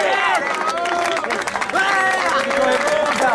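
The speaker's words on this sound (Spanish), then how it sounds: "¡Aplausos!" Crowd applause and cheering at a Spanish-language rap battle tournament, dense clapping mixed with loud voices and shouts throughout.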